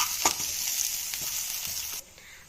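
Spring onions stir-fried with ginger and garlic for restaurant-style gobi manchurian, giving a loud, bright sizzle with a few stirring scrapes before the sizzle drops away abruptly and goes faint.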